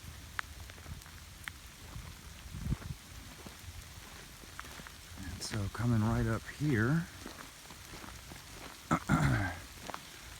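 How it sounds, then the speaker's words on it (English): Steady rain patters on surfaces, a soft continuous hiss, while someone talks over it with a few louder squeaky bursts in between. "It's raining"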